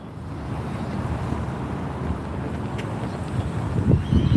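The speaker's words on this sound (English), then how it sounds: "it's real windy, so I'm trying to cover the mic" Steady rumbling wind buffets the microphone throughout, rising into heavier low gusts toward the end, with no talking.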